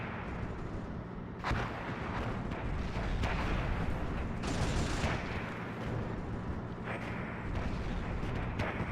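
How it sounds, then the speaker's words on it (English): Booming Basilisk artillery fire in a Warhammer 30K video game mod, several heavy blasts rolling over a constant rumble of battlefield gunfire, with no voices. "Nice hit from Miguel there from the Basilisk artillery gun"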